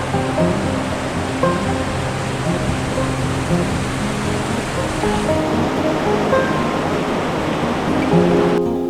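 A river in Nepal rushes steadily near a trail crossing between Surke and Phakding, producing a loud, unbroken wash of flowing water with no pauses.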